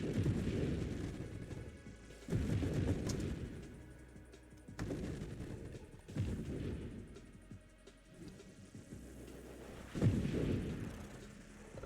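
Heavy flak weapon shots in a video game, a series of booming blasts roughly every two seconds, each with a sharp attack and rumbling decay, loud and without talk.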